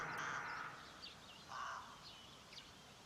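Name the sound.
crows near their nests in a tree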